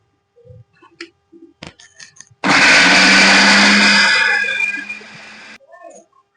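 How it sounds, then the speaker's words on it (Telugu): Mixer grinder whirring loudly as it grinds mustard for Andhra mango pickle, a steady burst of about three seconds that winds down, with small kitchen knocks before and after. "అంతకు మిక్సీ పడుతున్నాను నేను ఇప్పుడు."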